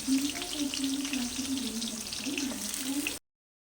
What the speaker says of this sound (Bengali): দেখো তোমরা দেখতেই পাচ্ছ কি সুন্দর ভাজা হচ্ছে